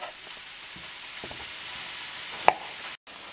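Merguez sausages and tomato sauce simmering in a pan for ojja with potatoes, a soft, steady sizzle with a single utensil clink partway through and a short break just after.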